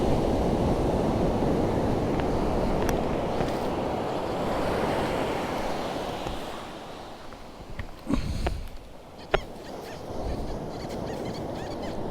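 Ocean surf washes in steadily on a beach at night, a continuous broadband rush with wind buffeting, swelling near and loud then easing, with a few sharp clicks and knocks toward the end.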